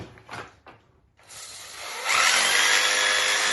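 An old late-1970s breaker drill is handled briefly, then starts up at about 1.2 seconds into a steady, loud mechanical whine. It grows harsher and louder at around 2 seconds and runs on alone with no talk.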